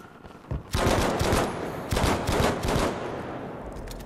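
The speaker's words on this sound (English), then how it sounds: "This gun's so loud." Loud bursts of rapid gunfire in the multiplayer shooter Battlefield V, a dense volley followed by a second burst, with no talk over it.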